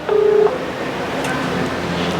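A telephone keypad gives one short, clear dialing tone as a call is placed to a district official's office. A noisy, hissy room background with faint scattered sounds follows it.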